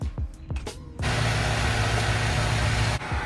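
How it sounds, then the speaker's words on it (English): A portable generator starts up after a second of rumbling and then runs with a loud, steady mechanical drone close by. There is a brief dip near the end, and no one talks. "don't mind the generator running in the back"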